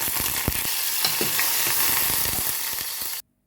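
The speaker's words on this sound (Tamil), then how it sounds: "இந்த மூன்று பச்சை மிளகாய் இப்படி ரெண்டாக பிளந்துருக்கிறத முதல்ல பொரித்து எடுக்க போகிறேன்" Three split green chillies deep frying in hot oil give a dense, continuous sizzling hiss with small crackles, close and steady, until it cuts off abruptly near the end.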